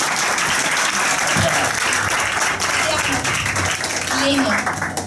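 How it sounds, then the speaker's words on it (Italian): Applause from a group at a school event: a loud, dense burst of many hands clapping close by, with voices mixed in beneath the clapping. "L'applauso."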